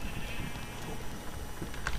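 Sheep bleating in Minecraft, a few short game bleats over a faint, steady background, quiet and brief.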